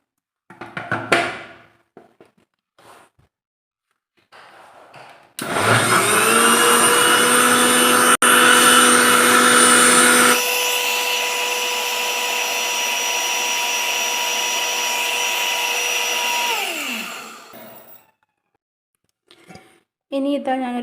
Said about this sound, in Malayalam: ഇനി ഇത് മൂടിയിട്ട് ഒന്ന് അരച്ചെടുക്കാം.